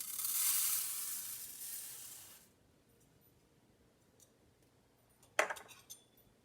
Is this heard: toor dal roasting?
yes